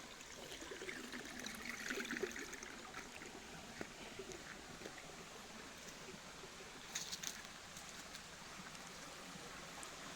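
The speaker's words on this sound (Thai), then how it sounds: "เสียงน้ำไหลจุกจุกจุก" A rocky forest stream in Kut Chum, Yasothon, Thailand flows steadily, its soft trickling and bubbling water continuous throughout, with no voices.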